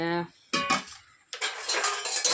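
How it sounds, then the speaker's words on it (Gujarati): Metal utensils and vessels being placed on a kitchen rack, giving a couple of close clanks followed by a longer run of clattering and clinking, with a voice heard briefly at the start. "આપણે હવે આ બધું ધીમે ધીમે વાસણ ને એવું બધું ગોઠવીને મૂકી દેવી અહીંયા ઘોડામાં।"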